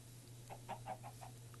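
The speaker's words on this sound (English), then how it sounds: "There's a chicken." A Minecraft chicken gives a short series of about five quiet, clipped clucks over a steady low hum, faint and close together.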